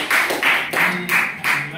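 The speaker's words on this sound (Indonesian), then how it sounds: "Tepuk tangan dulu untuk dia." A classroom group in a Catholic religious education lesson claps together in a steady, even rhythm of about five quick bursts, near and moderately loud, with voices mixed in.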